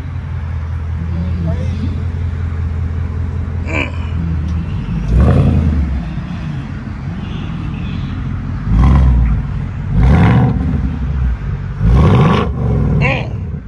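A 2024 Ford Mustang GT V8 revs in several loud, roaring bursts at a delivery lot, each surge climbing then falling back to idle, with people talking between the revs.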